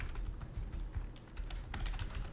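Fast, steady typing on a computer keyboard, close and clear, with rapid irregular key clicks filling the short stretch and no speech.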